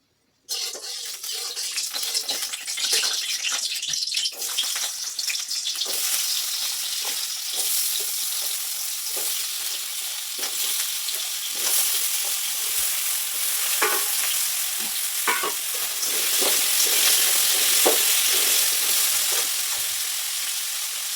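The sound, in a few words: potatoes frying in oil for ghugni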